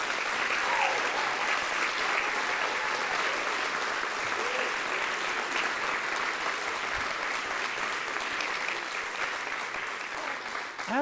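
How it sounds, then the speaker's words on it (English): Sustained applause from an audience honoring award recipients at the Alaska Governor's Arts and Humanities Awards ceremony, a dense, even wash of clapping lasting about eleven seconds. "can we have one more round of applause for all of the evening's honorees?"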